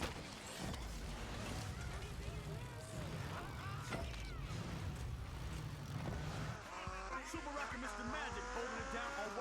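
Cars racing in an open-world racing video game, a continuous engine roar with revving and shifting tones and a rising whine near the end, under a voice talking over it.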